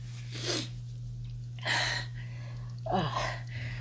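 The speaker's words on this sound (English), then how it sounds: "Sorry about the sniffles." A few quick nasal sniffs, three separate bursts spaced about a second apart, fairly close over a steady low hum.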